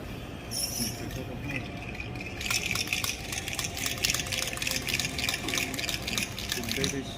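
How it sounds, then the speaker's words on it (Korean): Nitrogen is injected into an iced cinnamon coffee drink at a barista championship, a dense hissing, gushing rush that swells after a couple of seconds and holds steady and close. A low murmur of voices sits underneath. "아이스 큐브를 넣고 질소를 주입해 주도록 하겠습니다"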